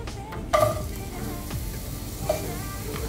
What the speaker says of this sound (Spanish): está caramelizando la cebolla